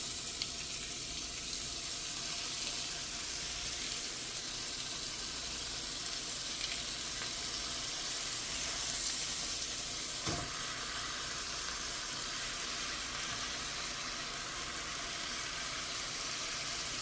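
Bacon frying slowly in a pan over medium-low heat, a steady, even crackling sizzle heard close up and alone, with a single faint tap partway through.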